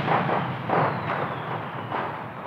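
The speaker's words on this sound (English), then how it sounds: "The rocket carrying Shan-Yu slammed into the fireworks tower," Explosion sound effect of a rocket slamming into a fireworks tower, heard as a short run of heavy, rumbling blasts that swell and fade several times in quick succession.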